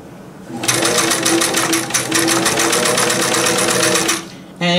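A 1975 Singer Fashion Mate 360 sewing machine runs a straight stitch, a loud, steady close-up whirring hum with rapid needle clatter for about three and a half seconds before stopping.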